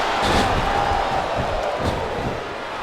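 Video game arena crowd from WWE SmackDown vs. Raw 2007 on Xbox 360, a steady loud roar of cheering and jeering that holds for about three seconds with no talk.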